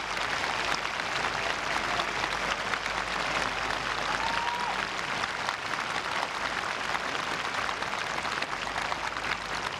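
Golf fans at a championship in Chiba, Japan applaud continuously, a dense steady patter of clapping from a sizable crowd with a faint cheer mixed in.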